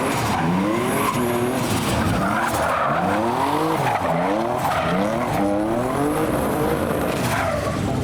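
A boosted Nissan 350Z drifting on dusty ground, its engine wailing up and down in repeated swooping revs over continuous tire skid noise, loud and close throughout.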